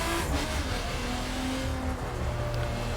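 A car engine in the racing game The Crew, driven in free roam while drifting: a loud, continuous roar with shifting engine pitch throughout and no talking.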